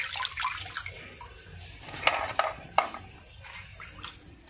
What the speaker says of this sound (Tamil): ஸோ இந்த மாதிரி நல்லா அலசி எடுத்துக்கோங்க.